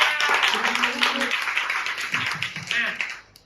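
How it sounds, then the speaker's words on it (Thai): Schoolchildren in a Thai classroom clap for their newly elected class head, a dense, steady patter of many hands lasting a few seconds and fading at the end, with voices murmuring underneath. "ขอเสียงปรบมือกับหัวหน้าห้องคนใหม่นะยจ้า"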